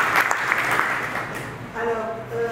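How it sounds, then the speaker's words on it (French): Participants at a youth leadership training session applaud with brief clapping. A voice speaks over the start, and the clapping trails off as a voice continues. "applaudissez-vous."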